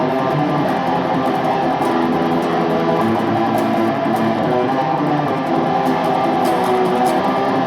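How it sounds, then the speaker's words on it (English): Dense, heavy electric guitar riff tremolo-picked in a triplet feel on the harmonic minor scale, playing loud and continuous without a break. "So the main riff sounds like this."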